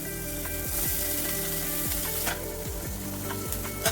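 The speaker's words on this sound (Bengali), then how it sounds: "মশলাগুলো ভালো মতো কষিয়ে নিতে হবে।" Ground spices and chopped tomatoes fry in a pan with a continuous close sizzle, repeated spatula strokes scraping through the mixture at an uneven rhythm, no one speaking.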